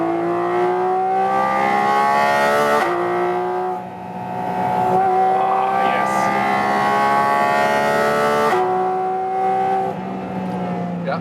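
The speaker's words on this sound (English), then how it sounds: "I love this naturally aspirated engine" Porsche 718 Cayman GT4 RS naturally aspirated engine in its sportiest mode, loud and close, climbing in pitch through the gears with brief dips at each shift around four and ten seconds.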